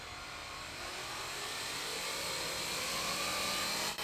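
A small drone on conventional propellers flies with a steady, smooth whirring drone that holds at moderate level and builds slightly throughout.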